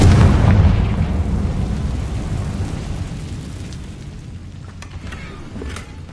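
A Confringo explosion spell in a video game erupts as a loud, deep boom that rumbles and slowly fades over several seconds.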